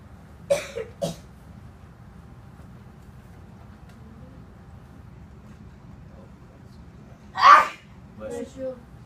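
A sneeze goes off in a sixth-grade math classroom, sharp and fairly close, with a second burst about a second later. Brief voices follow near the end over a low room hum.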